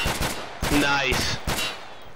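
Rapid bursts of gunfire in a shooting game, several sharp cracks in quick succession, with overlapping voices of players talking.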